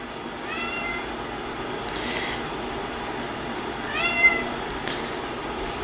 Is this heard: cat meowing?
yes